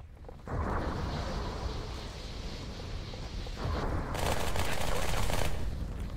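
Dual SMGs firing in the Halo 2 E3 2003 demo, a continuous loud rattling stream of rapid automatic fire lasting several seconds, with a brighter, denser burst near the end and talk mixed in.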